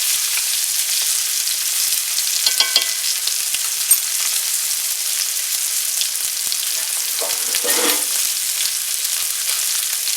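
Steak sizzling in a cast iron skillet while herb butter with rosemary and thyme is spooned over it: a continuous bright frying hiss with occasional spoon clinks and a louder spattering burst near the end.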